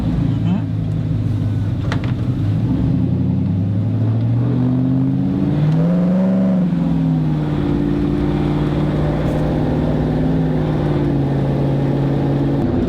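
A car engine hums at idle, then revs up and back down in a smooth rising and falling drone before settling into a steady run, close and loud, with people talking over it.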